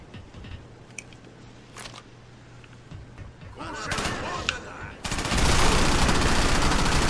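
Weak in-game gun firing in the video game Crackdown, scattered shots building into dense rapid bursts that grow loud and continuous in the last two seconds, with no talk over them.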